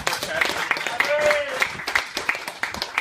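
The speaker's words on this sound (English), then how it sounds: "can we get a round of applause for Travis?" Scattered, uneven clapping from a small gathering at a pizza competition judging event, individual hand claps standing out in irregular bursts while voices talk underneath.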